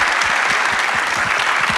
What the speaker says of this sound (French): je remercie Théo et Patrick qu'on peut applaudir d'être venus à cet épisode